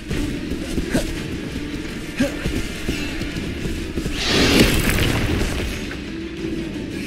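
Fiery Incendio spell bursts from Hogwarts Legacy gameplay, a whooshing blast rising midway over a steady rumble of game ambience and music, with smaller pops scattered before it.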